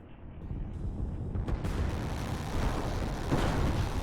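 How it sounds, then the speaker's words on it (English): Artillery fire in the strategy video game Line War, a continuous stream of low, rumbling booms and thuds layered over one another, moderately loud and building slightly, with no voices. "Rune is dealing with them with artillery before they even become a problem"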